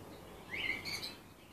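A newly arrived pet bird gives a couple of brief, high chirps over quiet indoor background noise, with no talking.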